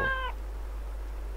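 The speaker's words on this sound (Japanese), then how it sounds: "なんで猫？" A single short cat meow in the horror video game Alice mare, clear and close, followed by quiet background hum.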